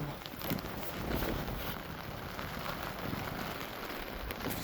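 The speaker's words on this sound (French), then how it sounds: "il pleut moins" Rain falling outdoors at a large festival-style racing event, a soft, continuous patter heard faintly and evenly throughout with no one speaking.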